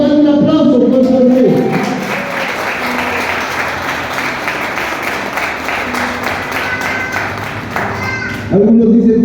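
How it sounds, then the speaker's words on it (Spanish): Applause from a church congregation swells into a sustained crowd of clapping hands, loud and close, with a few voices audible around it before it breaks off near the end. "Dale un aplauso, por favor."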